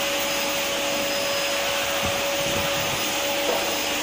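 Close and loud, a vacuum cleaner drones through a home cleaning session with an even airy roar and whine, a few faint bumps, then cuts off abruptly at the end.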